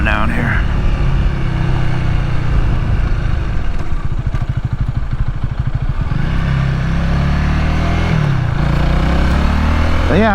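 A Honda Rebel 300 motorcycle cruises on the highway, its engine droning steadily under heavy wind roar, with the pitch dipping and rising as the rider eases off and back on, and a rider's voice talking over it.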